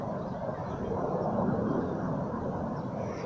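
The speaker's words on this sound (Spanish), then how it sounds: "Es el sonido lo que lo escuchas tú allá atrás. Los aviones están ahí." Airplanes passing overhead produce a steady broadband roar heard from a distance, lasting throughout without speech over it.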